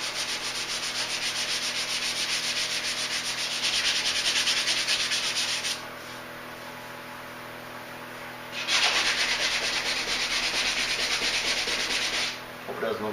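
Close, loud sanding strokes rub over the rounded rear bodywork of a Duramax truck in two long sustained bursts, with a short quieter gap between them and a brief pause near the end.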